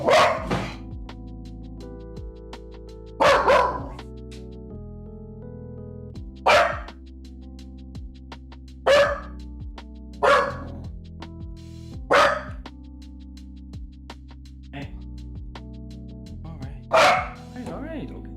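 A puppy barks in sharp single bursts, about eight loud yips spaced a couple of seconds apart, close by in a quiet indoor room with a steady low hum underneath and no talking.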